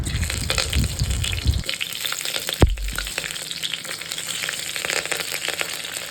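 Fenugreek, mustard seeds and curry leaves fry in hot oil for a Tamil anchovy fish curry, giving a steady close sizzle over a low rumble that fades early, with one sharp pop partway through. No one speaks.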